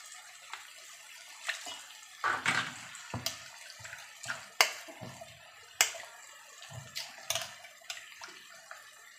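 A little water swirls and sloshes in a container to rinse out leftover masala paste before it goes into the kadhai, with intermittent splashes, knocks and drips close by.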